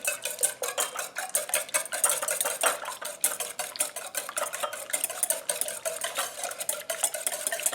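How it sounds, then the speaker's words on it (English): A couple of eggs being beaten in a pan with a utensil, rapid steady clicking and scraping that runs continuously, close and fairly loud, with no voices. "beat these eggs"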